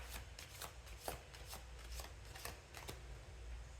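Tarot cards shuffled by hand in a steady run of crisp riffling flicks and soft slaps, close and moderately loud over a low background hum, with no one talking.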